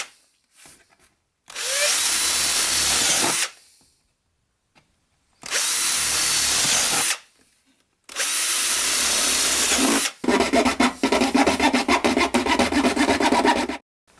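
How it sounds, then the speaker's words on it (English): A power drill bores out the corners of a custom interior panel for a classic Jaguar XJ6 in three loud, close bursts separated by short pauses, with the final burst grinding and rasping harder. "I think I'm just going to drill the corners out"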